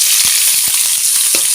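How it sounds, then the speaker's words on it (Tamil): Thinly sliced onion frying in oil with garlic in a pan sizzles loudly and continuously up close, with dense hissing and scattered small pops and stirring clicks. "மெலிசாக நறுக்கின ஒரு வெங்காயத்தை முழுசாக சேர்த்துக்கலாம்."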